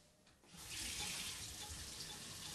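Tap water running in a gas-heated house, a steady bright hiss of flowing water that starts after a brief quiet moment and continues evenly, fairly close and alone.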